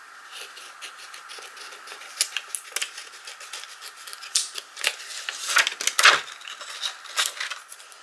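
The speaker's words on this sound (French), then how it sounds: "Je vais couper un peu le motif, enfin le plastique, pour pas qu'il se chevauche." Scissors snipping through a sheet of plastic during a craft project, a run of quiet crisp cuts at an uneven pace, with a louder cluster of snips toward the end.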